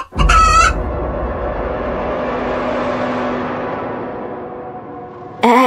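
A cartoon chicken gives a short burst of loud, high clucking at the start, followed by a sustained noisy wash, with another brief squawk right at the end.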